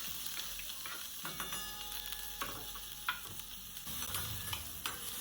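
Onion and chili frying in oil for poha, with a faint, steady sizzle and soft scraping stirs in a quiet kitchen.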